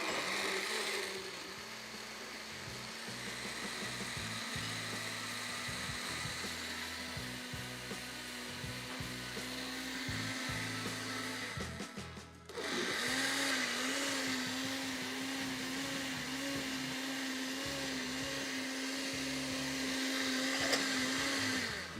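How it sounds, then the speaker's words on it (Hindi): A blender whirs steadily as it purées a smoothie, a loud continuous motor drone that cuts out briefly midway and then spins back up, with no voices over it. "इसके बाद सिंपल इसको ब्लेंड कर लेते हैं।"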